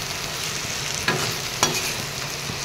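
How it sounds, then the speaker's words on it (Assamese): Small fish sizzling in a pan over a low flame, a steady close frying hiss broken by two brief scraping knocks as the pieces are stirred and turned. "এইখিনিও মই এনেদৰে কম জুইত ভাজি ল'ম।"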